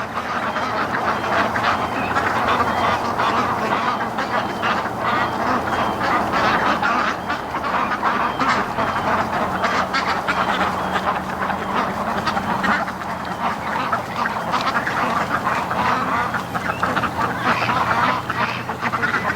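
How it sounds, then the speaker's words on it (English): A flock of ducks quacks continuously nearby, overlapping calls in a busy, steady chorus with no pauses. "There's got to be more ducks coming from the lake."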